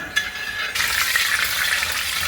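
Mustard seeds spluttering in a hot pan, a dense crackling sizzle that starts faintly and then bursts into steady, loud popping and hissing close by with no talk.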